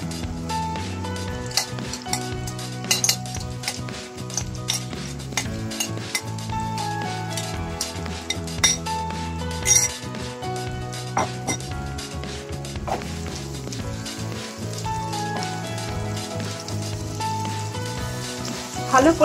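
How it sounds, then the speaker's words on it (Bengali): Prawn masala sautéing in a pan with yoghurt and spices, a steady sizzle and frying hiss running throughout, punctuated by repeated spatula scrapes and knocks against the pan, with background music layered over it. "ভালো করে কষিয়ে নেবো এবারে"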